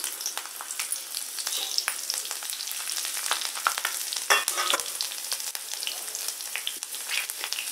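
Green chillies fry in hot oil in a pan, with a steady loud sizzle and crackle and occasional sharper pops, close up and alone.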